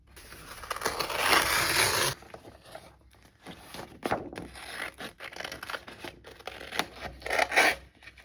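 Scissors cut a printed paper image in half for junk journal tags, making a crisp crunching snip run for about two seconds, then scattered softer snips and rustling paper handling.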